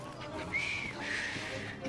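A character whistles in the Victorian London video game Assassin's Creed Syndicate, a short rising-and-falling whistled tune heard close over soft ambient game noise.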